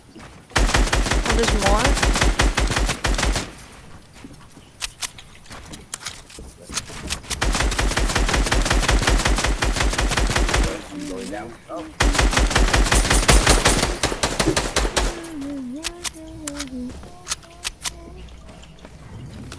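Rapid automatic gunfire from the Fortnite video game comes in three long, loud bursts with short pauses between them. A player's voice speaks briefly over the shooting.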